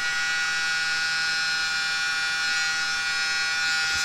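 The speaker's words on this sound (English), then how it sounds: "Grab the mini blower, start at the center again" Small electric mini blower running continuously while fluffing out livestock hair, a constant loud high-pitched whine with a steady hum underneath, close and unbroken.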